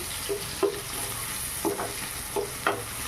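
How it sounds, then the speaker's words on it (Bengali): Onion, garlic and three green chillies frying in a pan, giving a steady sizzle broken by a handful of spaced spatula scrapes and knocks against the pan. "এবারে কিছুক্ষণ ধরে পেঁয়াজটা আর রসুনটা আর কাঁচা লঙ্কাটাকে ভেজে নিতে হবে।"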